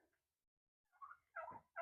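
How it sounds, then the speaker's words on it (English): Faint, distant bird honks sound in short bursts, two or three nasal calls rising out of near silence. "I hear a chicken honk."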